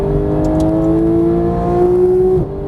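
A Porsche GT3 engine on a race track, loud and close, holding a steady high rev under throttle with a gradual climb in pitch before the note drops suddenly as the throttle eases.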